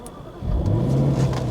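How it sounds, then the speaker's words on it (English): A Jaguar XKR V8 cranks and fires, its starter whir giving way to a throaty idle that settles into a steady, close-up rumble. "I will just start the car up so I can move the steering wheel."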